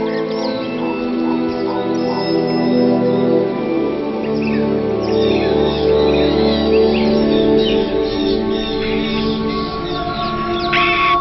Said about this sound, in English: Birds of Eden, the largest free-flying avian facility in the world for rescued birds